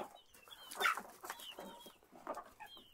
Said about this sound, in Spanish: Aquí se pueden ver las gallinas, algunos gallos.